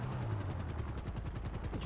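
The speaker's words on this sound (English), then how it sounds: "make sure you listen to the helicopter noises so that you can get to it" A luxury helicopter arrives in GTA Online, its rotor chopping steadily in a fast rhythmic pulse that stays faint and distant throughout.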